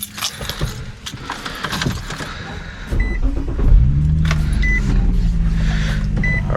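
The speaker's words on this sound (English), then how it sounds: "I will just let the car warm up for like 2-3 more minutes" An Infiniti G35 sedan engine with a muffler delete idles steadily while warming up, with a low, even rumble that settles in after a few seconds, along with faint clicks and small mechanical noises.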